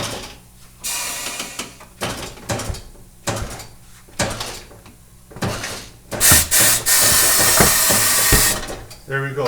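A tire machine mounting a Continental DWS06+ tire onto an Audi S8 wheel, with irregular rubbing, scraping and mechanical bursts that rise to a loud sustained grind near the end.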